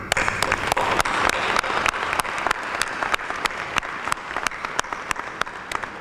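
Applause from a graduation audience at the 2017 John Glenn High School ceremony, dense and steady with sharp individual claps standing out, sustained throughout with no voices.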